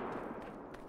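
Rapid gunfire from a first-person shooter video game, with a player's P90-style submachine gun spraying a quick burst of shots that rattle steadily through the short moment.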